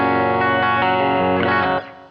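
An electric guitar runs through a clean Fender amp simulation with a little reverb, playing a few sustained chords that ring out and then fade quickly near the end.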